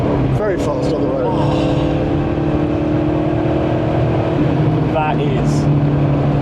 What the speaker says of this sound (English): It's the overrun. The crackles on overrun.